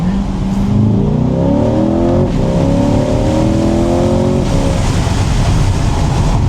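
A C8 Corvette engine revs hard and climbs through gears in manual mode on a backroad, top down, the pitch rising in sweeps with brief drops at each shift, loud and close.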